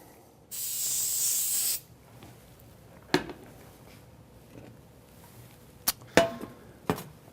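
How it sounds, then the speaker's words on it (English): A cooking spray hisses in one steady burst for about a second, followed by quiet, with a few sharp clicks and taps afterward. "again with just the non-stick cooking spray here"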